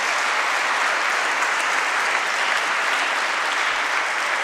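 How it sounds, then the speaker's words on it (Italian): Steady, loud applause from a congregation fills a church during the welcoming Mass for two new priests, a dense unbroken wash of clapping with no voices above it. "Qua ci stava bene l'applauso."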